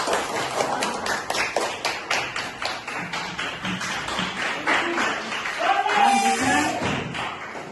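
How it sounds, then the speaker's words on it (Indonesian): Classroom applause for a student group's presentation: a steady patter of many hands clapping at close range, with some taps and thuds and voices mixed in. "Berikan aplaus untuk kelompok"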